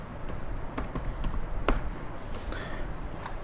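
Typing on a computer keyboard, a steady run of close, crisp key taps with a few sharper strikes, heard alone with no talking.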